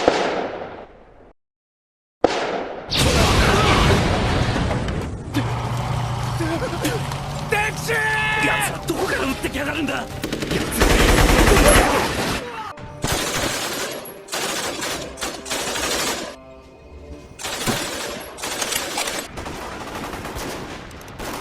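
A Lego stop-motion battle scene of Australians fighting toward Singapore is filled with gunfire and explosions. After a brief silent gap, dense bursts of shots, pops and blasts follow one another continuously and loudly, with voices mixed in.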